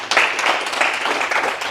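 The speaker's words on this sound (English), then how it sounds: "Please give a round of applause for Toastmaster Jeannie Cintron" A Toastmasters audience breaks into applause for a speaker, a brief, close burst of many hands clapping that holds steady before it ends.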